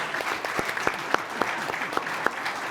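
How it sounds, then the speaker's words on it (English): An audience at a township special meeting breaks into applause, a room full of scattered handclaps going on steadily with a few sharper claps standing out. "I think we owe this gentleman a round of applause."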